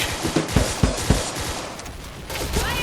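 Gunfire in the first-person shooter Point Blank: a burst of sharp, evenly spaced shots, about five loud reports in the first second and a half, then a brief lull and a few softer shots near the end.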